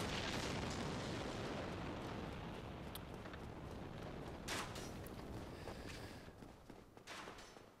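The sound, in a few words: fire bomb explosions thrown by a giant in Dark Souls video game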